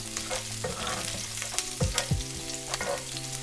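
Garlic, ginger and chilies splutter and sizzle in hot oil, a close, steady frying crackle with a few sharper pops and the clink of stirring.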